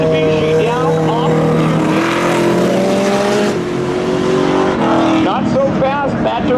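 A Mitsubishi and another car launch down the strip at Seekonk Speedway spectator drags, loud engines revving and roaring close by as they accelerate, with an announcer talking over them.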